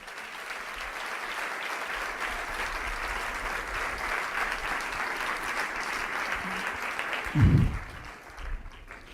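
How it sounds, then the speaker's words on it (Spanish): A congregation at a Christian sermon gives sustained, moderately loud applause to the Lord, an even wash of clapping with a brief low thump near the end. "Dele un fuerte aplauso al Señor."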